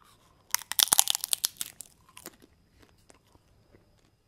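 Crisp biting and crunching of a bland, dish-shaped edible wafer, a dense burst of close, sharp cracks for about a second and a half, then trailing off into a few scattered faint crunches and chews.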